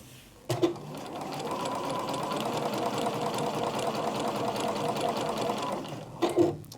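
A Juki DX sewing machine runs at a steady, even speed for several seconds, its smooth mechanical whir bracketed by brief clicks as it starts and stops.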